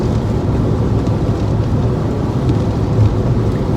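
Steady rain drums on a car, a dense close patter heard from inside, continuous and fairly loud with a low rumbling undertone and no voices.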